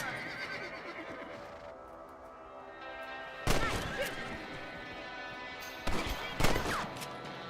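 Rifle shots in the Red Dead Redemption video game, two sharp loud cracks a couple of seconds apart over a quiet outdoor backdrop with a horse nearby.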